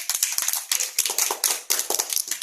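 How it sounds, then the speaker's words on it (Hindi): Children in a classroom clap loudly together after a quiz answer, a close, dense flurry of sharp hand claps in uneven bursts, no talking. "जोरदार ताली बजाओ।"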